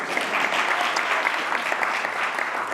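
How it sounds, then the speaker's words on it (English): Audience applause at a talk, a dense, even wash of many hands clapping at moderate loudness, sustained for a few seconds with a faint murmur beneath. "Round of applause here for my dad here."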